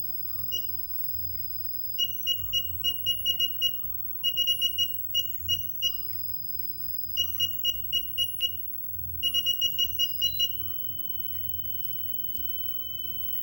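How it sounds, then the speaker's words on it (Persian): A signal generator's whistle passes through a video intercom circuit as shrill electronic beeps in rapid bursts, with tones stepping upward in pitch over a low hum. "به این صدای سوت توجه کنید"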